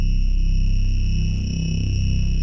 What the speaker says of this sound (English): It is the complaining growl bass,